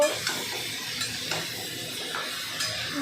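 Pumpkin pieces frying in a pan, giving a continuous close sizzle, with light stirring scrapes and faint utensil taps now and then.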